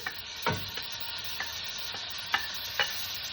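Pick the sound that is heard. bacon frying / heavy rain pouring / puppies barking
bacon frying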